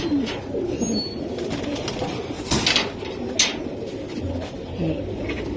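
A big, orange-eyed, all-silver male pigeon coos softly over a steady background hum, its low calls rising and fading in a few short phrases.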